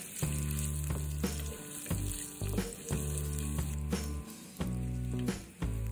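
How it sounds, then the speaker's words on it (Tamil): Chopped ginger and garlic sauté in ghee or oil in a kadai, giving a steady close sizzle with bursts of stirring over tonal sounds in the background. "நறுக்கின இஞ்சி, நறுக்கின பூண்டு சேர்த்துட்டு நல்லா வதக்கி விட்டுறலாம்."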